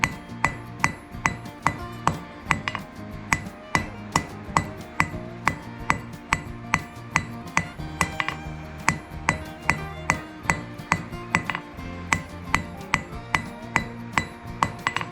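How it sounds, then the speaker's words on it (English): A hammer strikes steel tongs on an anvil during forging, ringing with bright metallic clinks in a fast, even rhythm of several dozen blows, close and clear with no talking. "I'm going to forge this just a little bit,"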